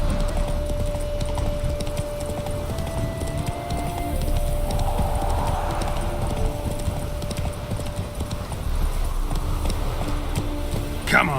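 Hooves of Roach, a horse in The Witcher 3 video game, clip-clop steadily at a gallop throughout, with a voice speaking over the continuous hoofbeats.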